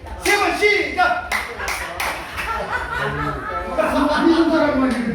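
An audience at a Korean janggu drum group performance claps along with laughter and chuckles mixed in, giving a few sharp clap bursts near the start before a voice talks over the rest.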